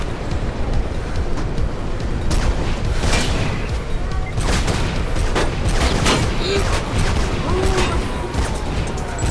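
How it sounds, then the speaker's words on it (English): Rapid gunfire crackles through the Mirror's Edge video game in dense, loud bursts and booms that overlap continuously under game audio, with no gaps of quiet. "I can hear gunshots"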